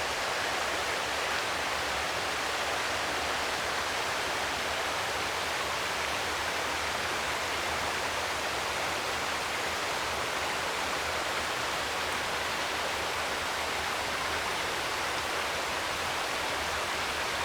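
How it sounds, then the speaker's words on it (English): Cool running water pours in a steady, unbroken rush, loud and close, with no voices over it. "How does the sound of cool running water affect how you feel?"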